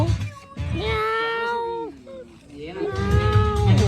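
A cat lets out one long, drawn-out meow followed by a short second one, close by and fairly loud, with some background noise around it.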